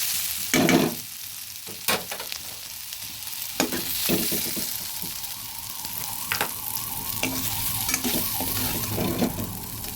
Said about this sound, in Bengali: আলু আর শিমটা সুন্দর করে ঢেকে ঢেকে ভেজে তুলে নিয়েছি